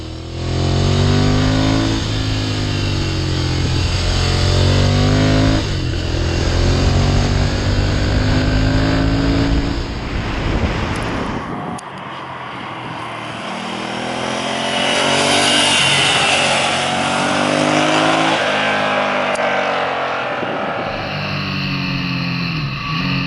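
The air-cooled engine and exhaust of a Ducati Monster 796 motorcycle rumble and rev through rising and falling pitch sweeps, loud and close, then ease off before revving up again for a long stretch.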